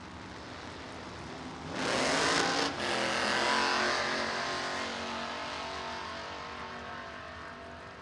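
A 1973 Camaro drag racing car launches at a classic car race, its engine bursting into a loud roar that peaks quickly, then holds a strong, sustained drone as it pulls away down the strip.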